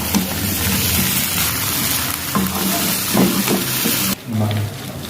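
A fish head fries in a pan over a gas flame on low heat, a steady dense sizzle filling the scene with occasional stirring clatters and a brief dip near the end.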